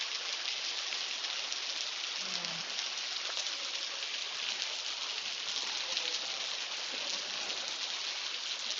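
Steady heavy rain pours down on a street in Telok Ayer, Singapore, a dense continuous hiss filling the whole stretch, with a brief low voice sound partway through.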